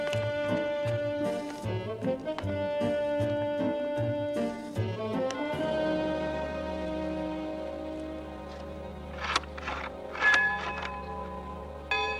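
A large bell bongs at night in a country house, a sequence of resonant strikes with long ringing decays and layered overtones, the tones swelling and lingering over a faint background.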